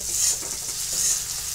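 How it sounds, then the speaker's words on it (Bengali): Potatoes, capsicum and onion sizzle and fry in hot oil in a wok, a steady crackling hiss with soft stirring scrapes, close and with no one talking. "কড়াইয়ে তেল দিয়ে দিয়েছি, এবার ক্যাপসিকাম, আলু, পেঁয়াজ ভেজে নেব।"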